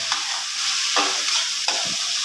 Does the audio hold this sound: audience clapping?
no